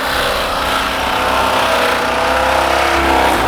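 A BMW engine drained of its oil runs flat out near a 4,000 rpm soft limiter, a loud continuous strained drone held steady and close for the whole stretch, with no talking.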